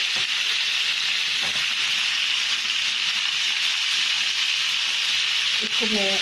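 Tomatoes, onion and ginger fry in a pan for a chicken masala, giving a steady, close, loud sizzle and hiss that runs without a break, with a brief clink near the end.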